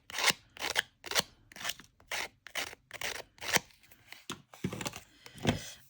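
Scissors cut through craft paper in a steady run of about a dozen crisp, close snips, evenly spaced at first, then slightly irregular, with no voices.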